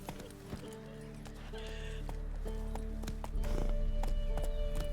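Geralt's horse Roach from The Witcher 3 plods along with steady clip-clop hoofbeats in a game setting, a whinny rising partway through over ambient music and a low rumble.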